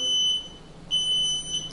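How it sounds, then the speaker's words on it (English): A Jazzy Carbon folding portable power chair gives a high, pure confirmation beep, heard as a few steady electronic tones with short gaps between them, close and clear over a quiet background. "When you hear that beep, now watch"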